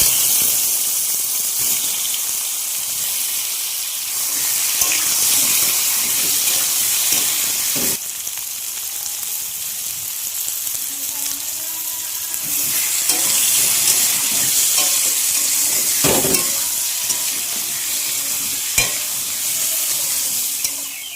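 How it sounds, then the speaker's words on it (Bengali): Potatoes fry in hot oil in a pan with a loud, continuous close sizzle, broken now and then by the clatter of a spatula stirring them. "ওই সেম প্রসেসে আলুটাও ভেজে দিতে হবে।"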